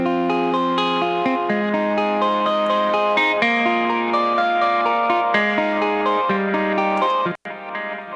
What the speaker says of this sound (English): that's what it sounds like with just the EQ going into the reverb